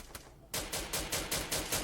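Rapid gunfire in a clan-war shooting video game: after a brief lone shot and a quiet gap, loud repeated automatic bursts follow in a steady pulsing rhythm, close and punchy, with no talk.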